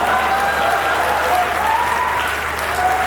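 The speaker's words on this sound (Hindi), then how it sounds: "आपकी तालियां सही जगह बजी" A crowd applauds steadily for a few seconds, a dense, even clapping that fills the whole stretch without letting up.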